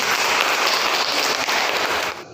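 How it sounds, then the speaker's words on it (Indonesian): A classroom of students applauds during a teaching-practice lesson: a dense, steady wash of clapping that holds evenly, then stops abruptly just before the end, with no voices over it. "Tepuk tangan buat ini."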